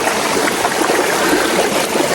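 A stream flows steadily along a hiking trail, a loud, continuous rushing and trickling of water close by with no voices.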